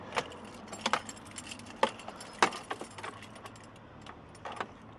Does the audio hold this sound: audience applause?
no